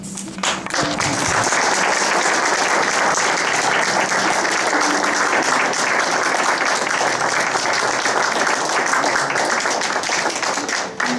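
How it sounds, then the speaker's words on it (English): Applause from a gathered audience at a medical center event, loud, dense and sustained clapping from many hands that fills the whole stretch and cuts off sharply at the end. "I would like to give a round of applause for your support"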